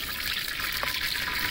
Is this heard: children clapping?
no